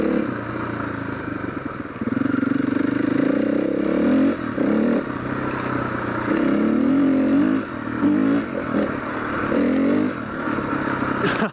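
Husqvarna FE501 dirt bike ridden off road near Anglesea, Victoria, its single-cylinder engine droning and surging loudly up close with repeated throttle changes and some clattering over rough ground.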